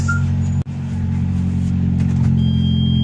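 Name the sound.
car engine being started and warmed up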